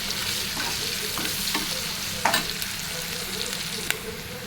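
Sliced onions with a little salt fry in a pan for a flat bean curry, a steady close sizzle broken by a few scraping stirs, with no speech.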